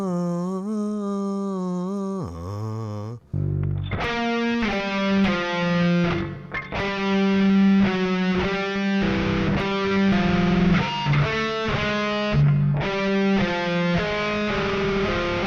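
Heavily distorted nu metal electric guitar run through a delay effect, playing sustained chords and riffs with echoing repeats, loud and continuous after a brief bending intro note.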